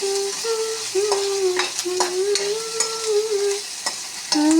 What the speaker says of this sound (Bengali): তবু আরও পেঁয়াজ রসুনের মধ্যে একটু ভালোভাবে ভেজে নিচ্ছি।